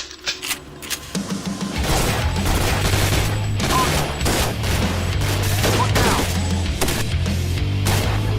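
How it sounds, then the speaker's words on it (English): Guns firing on a shooting range in the VR game Gun Club VR: a few sharp separate shots, then a dense rapid burst of automatic fire over a booming low backing that runs on loud and close. "Take to the range with an arsenal of the world's most powerful weaponry in Gun Club VR"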